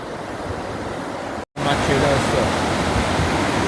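Continuous loud rushing of a strong river current, a broad steady roar with a brief cut partway through before the torrent resumes.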